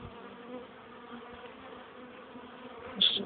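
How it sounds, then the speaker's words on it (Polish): Honeybees buzz steadily around the entrance of a newly occupied hive, a continuous low insect hum that rises into one brief closer, louder buzz near the end. "Widziałem już jakaś pszczółka z pyłkiem wchodziła, więc chyba pracują."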